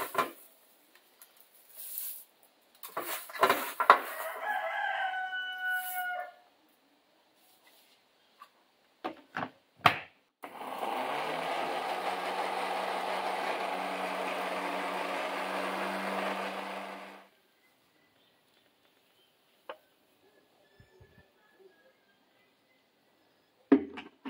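A kitchen blender grinds dried garden herbs into seasoning, a steady whirring burst lasting several seconds, preceded and followed by quiet handling clatter.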